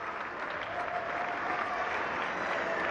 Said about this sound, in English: The round of applause for Tim Southee.